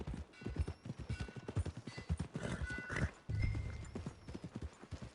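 Horse hooves clip-clop in a steady walking rhythm with a neigh, in the Red Dead Redemption 2 video game, close and clear with faint mechanical clinks.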